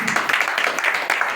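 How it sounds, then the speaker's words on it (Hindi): Brief, fairly dense clapping from a small church gathering during a prayer teaching, a short burst of hands applauding close by. "जोरदार ताली"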